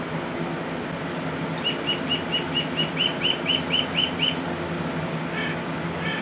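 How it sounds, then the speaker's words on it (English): A bird chirps a quick series of about ten evenly spaced high tweets, followed by a couple more short calls, against a steady indoor hum. "Here's that dang bird."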